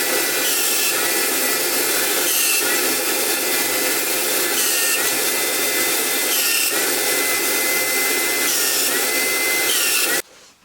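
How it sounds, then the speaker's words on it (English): A domino joiner cuts mortises in walnut for a dining table, giving a loud, continuous, close-up motor whine with rough cutting noise for about ten seconds before it stops abruptly. "then I'll adjust the domino down 1/8 of an inch and cut those as well"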